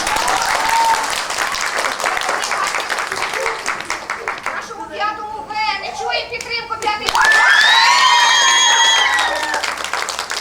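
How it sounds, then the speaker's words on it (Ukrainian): A crowd at a school autumn celebration applauds, with children shouting and talking over the clapping; there is a brief lull midway before a louder round of applause with excited kids' voices. "Оплески."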